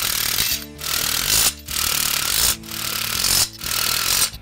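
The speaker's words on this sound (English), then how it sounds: "Go ahead and tighten down each of these bolts." Power tool driving carriage bolts on the tine mount plates of a Black Boar plugger, heard as four loud, buzzing runs of about a second each, separated by brief gaps, close up with no talk.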